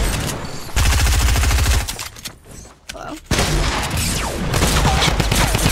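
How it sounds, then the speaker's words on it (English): Rapid bursts of automatic gunfire in Fortnite Battle Royale crackle loudly, break off for a quieter gap, then resume in a sustained volley. "I shot the guy."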